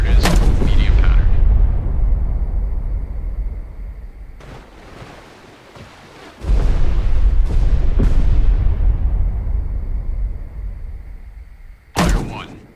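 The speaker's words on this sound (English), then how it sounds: "Ready depth charges. Deep pattern." Depth charges exploding in the naval video game Destroyer: The U-Boat Hunter, deep booming blasts that rumble and fade, with the first already sounding and another striking near the middle, over a constant sea wash, with brief talk.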